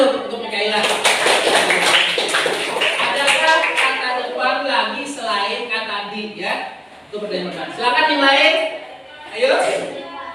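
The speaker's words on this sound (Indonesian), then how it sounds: "Ya tepuk tangan" Students in an Indonesian classroom clap for a classmate, a steady burst of hand claps running the whole length under a teacher's voice and some overlapping chatter.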